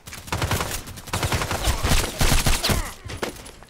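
Rapid rifle gunshots from a DT SRS mk.2 in the Contract Wars shooter game, a dense run of sharp cracks and booming reports firing in quick succession throughout, loud and close with no talk.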